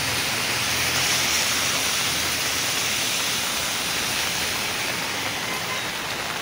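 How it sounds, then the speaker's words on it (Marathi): Heavy rain pours down steadily in Mumbai beside a pump, a dense, even hiss close by that never lets up and has no voices over it. "आता पण जोरात पाऊस चालू आहे इकडे।"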